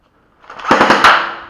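Video game gunfire breaks out as a quick burst of several rapid, sharp shots over about a second, fairly loud and with no talk over it.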